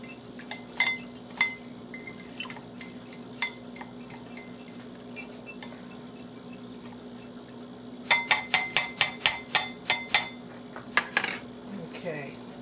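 A spoon stirs a cider-vinegar marinade for gator tenders in a bowl, with sparse metallic clinks early on, then a quick, rhythmic run of louder clinks against the bowl near the end.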